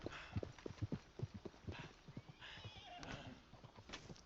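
A horse in the video game Red Dead Redemption 2 trots with quick, crisp hoof clip-clops, then lets out a whinnying neigh, close and clear with no talking over it.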